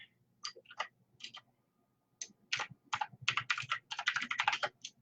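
Keys on a computer keyboard clatter in quick, uneven bursts, first a few scattered taps and then a denser run of rapid clicks, close but fairly quiet in an otherwise still room.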